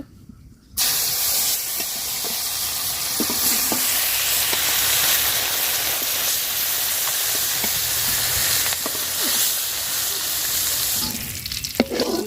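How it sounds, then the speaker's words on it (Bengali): Rani khoiya fish frying in hot oil, pieces being fried crisp and red for a tomato-potato curry; a loud, steady sizzle with crackles and occasional stirring clicks after a quiet start, no talking. "এই যে সবগুলা মাছ ভাজা নিচ্ছি"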